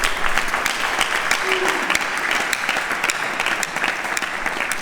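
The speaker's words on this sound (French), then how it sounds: "Applaudissez très fort pour vous-même." A live comedy audience claps loudly and steadily for itself, a thick round of applause with scattered sharper claps and a faint murmur underneath.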